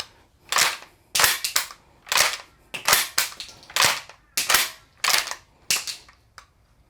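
Axor Arms Bushpig 2.0 shotgun firing a rapid string of about nine sharp, close shots at a fairly steady rhythm, each crack followed by a brief echo tail, with no talking.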